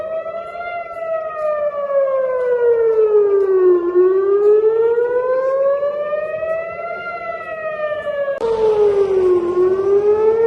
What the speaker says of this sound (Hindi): अवीव में लगातार सायरन्स बज रही हैं